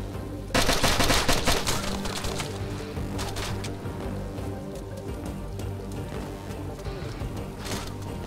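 Gunfire in the DayZ video game: a sudden loud burst of rapid shots breaks in early, then a dense rattle of repeated reports fades gradually to a quieter crackle.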